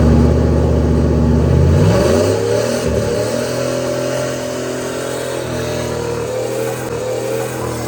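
A Dodge Durango engine revs hard during a burnout. The loud roar climbs in pitch and then settles into a sustained high-rpm drone, close by, with no voices.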